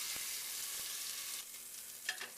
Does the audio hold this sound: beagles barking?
no